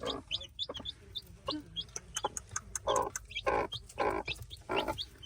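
A hen clucks close by while newly hatched chicks cheep in quick, high bursts, the sounds overlapping in a busy, irregular mix.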